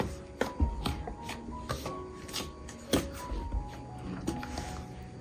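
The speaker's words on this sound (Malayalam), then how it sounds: "അതുകൊണ്ട് ഒരു സ്പൂൺ വെച്ച് ആദ്യം ഒന്ന് മിക്സ് ചെയ്യാം." A spoon stirs flour into hot ghee in a bowl, making close, irregular scraping and dull tapping strokes against the bowl with a faint background hum.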